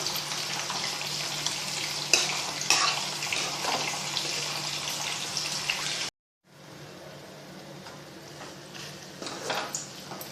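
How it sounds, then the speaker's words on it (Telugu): Tindora (ivy gourd) pieces frying in masala in a pan make a steady close sizzle and hiss. It cuts out briefly partway through, then comes back a bit quieter. "దొండకాయలు వేసుకున్న తర్వాత వీటిని మనం ఇంకొక 5 నిమిషాల పాటు ఫ్రై చేసుకోవాలి"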